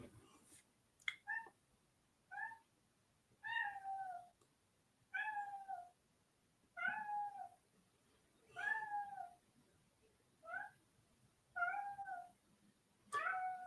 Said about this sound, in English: And here's the cat.